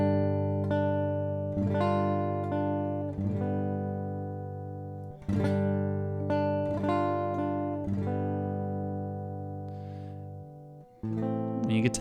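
Fingerstyle acoustic guitar plays Silent Night, with plucked notes ringing over strummed chords and a few pauses between phrases. The playing is clear and close, with no talking.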